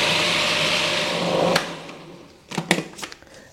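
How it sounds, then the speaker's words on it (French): Kitchen blender mixing soaked red lentils into a thick paste, a steady whirring drone for the first second and a half, then stopping, followed by a few sharp knocks and clatters of the jar. "On mixe à nouveau."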